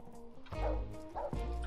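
A dog in the animal-shelter video game Animal Shelter gives two short barks with whimpering yips. They come at a steady pace and sound fairly quiet and close.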